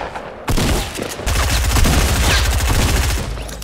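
Fortnite gunshots crack in a loud, dense volley after a brief quiet start, with rapid repeated shots filling the remaining seconds.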